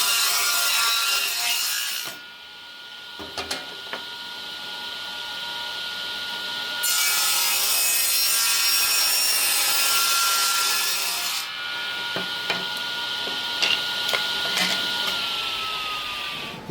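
A wood board is cut down to thickness while refurbishing an old family cradle, a powered cutting tool whining through the timber in loud sustained passes that drop away and resume, with brief knocks between.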